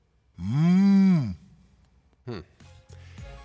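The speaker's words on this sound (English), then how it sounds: "No, that sounds more like a cow or a bull." A long, loud cow-like moo from a basketball arena crowd in the NBA 2K15 video game, followed by brief voices and faint crowd noise.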